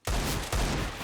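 Two sharp, loud Desert Eagle pistol shots ring out in Counter-Strike on the Inferno map, each blast followed by a brief decaying tail.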